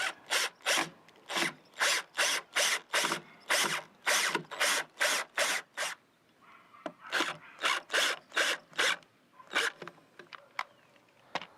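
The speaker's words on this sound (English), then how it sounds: "Now I just have to screw it in." Repeated ratcheting, rasping bursts from screwing a bottom rail into place on a new porch railing, about a dozen even strokes in steady rhythm, a short pause, then further strokes that thin out toward the end, close and alone with no talk.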